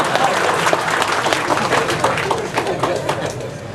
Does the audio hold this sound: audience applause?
yes